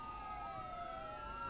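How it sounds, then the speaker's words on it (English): A police siren from the opening of the film Hot Fuzz, its sweeping tones wailing and gliding up and down, faint but steady and layered, with no voices over it. "you get an old siren, and then a slightly newer siren, and finally the newest version of the police siren"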